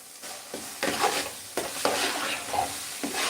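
Tomatoes frying in a pan and being stirred, a steady hissing sizzle broken by repeated scraping strokes of the stirring utensil, close and moderately loud with no talk.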